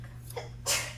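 A quick intake of breath followed by a single short, explosive sneeze, close by, over a faint steady hum.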